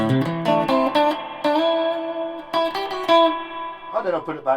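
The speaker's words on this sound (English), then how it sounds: "reverb at full," Guitar chords and notes ring loudly through a Peavey ValveKing VK112 combo amp with the reverb at full, sustaining and washing into one another in a short, continuous passage.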